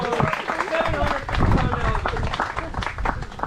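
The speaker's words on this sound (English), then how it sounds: "big round of applause for Ballistic" A crowd at an Everglades alligator farm applauds a 12.5-foot, 700-pound alligator named Ballistic, with steady dense clapping and cheering close by, while someone talks over it.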